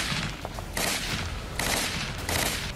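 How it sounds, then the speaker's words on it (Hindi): Heavy gunfire from Israeli soldiers during a Gaza ground operation, bursts of rapid automatic shots coming in three or four clusters, moderately distant and loud, with no voices. "तस्वीरों में देखा जा सकता है कैसे इसराइली जवान हमास के ठिकानों पर ताबड़तोड़ फायरिंग कर रहे हैं।"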